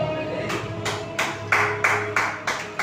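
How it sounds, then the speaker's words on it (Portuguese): A church congregation claps in unison, about nine sharp, evenly spaced claps in a quick steady rhythm that grow louder partway through, over a faint background. "As palmas louvam o Senhor Jesus."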